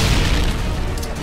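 A stun grenade blast in Modern Warfare 2 (2009) fills the moment as a dense, loud, broadband boom with no break and no talk over it.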